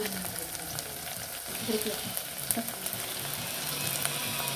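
Onion frying in a pan until reddish for ambat varan, a steady moderate sizzle with occasional stirring clinks and scrapes, nearby and unvoiced.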